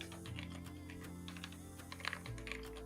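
Typing on a computer keyboard, a steady patter of key clicks with a few louder taps, sitting under a constant low hum and background music.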